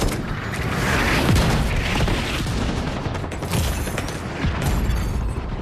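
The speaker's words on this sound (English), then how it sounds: "Mortars on this location." Mortar explosions in The Division 2, a dense rolling barrage of booms and crackling blasts that continues loud and unbroken without pause.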